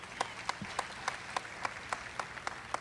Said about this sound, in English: One more round of applause for Mini Mizzou.